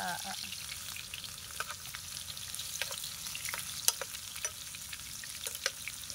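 Corned beef caldereta fries in a pan outdoors, giving a continuous close sizzle with scattered sharp pops and crackles and no voices.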